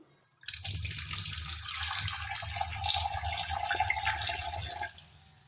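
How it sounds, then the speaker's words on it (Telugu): Water pours steadily into a metal pot for cooking dog food after a short knock, a continuous splashing stream close by, then stops. "తగినన్ని నీళ్ళు పోయాలి"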